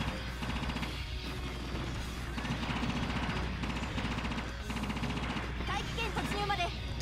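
Rapid, continuous machine-gun fire from the video game Assault Suit Leynos, downing enemy fighters in sustained bursts over game music and effects, with a voice talking over it.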